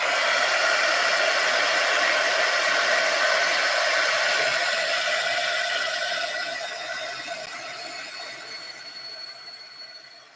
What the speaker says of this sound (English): I'm going to put some heat on that and dry it up